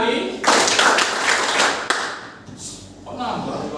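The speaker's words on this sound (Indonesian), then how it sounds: "Tepuk 4 kali." A group of people clap their hands in a short series of sharp, evenly spaced claps, close and loud, with voices talking over and between them.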